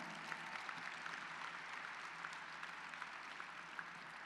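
Audience at a dinner honouring Dick Vitale keeps applauding, a sustained, even patter of many hands with occasional sharper claps, moderately distant in a large room.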